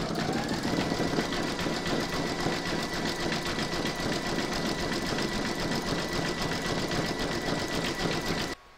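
An embroidery machine stitches a zigzag satin edge around an in-the-hoop sloth applique, a steady, loud, fast mechanical whirring and rapid needle rhythm running continuously, then stopping abruptly at the end.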